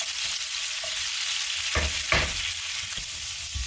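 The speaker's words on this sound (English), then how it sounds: "Scrape the pan a little bit with the wooden spoon just in case there's any bits of onion stuck to it" A wooden spoon scrapes a pan of cooking onions as red wine reduces for marinara, a constant sizzle with a few soft scraping knocks of the spoon against the pan.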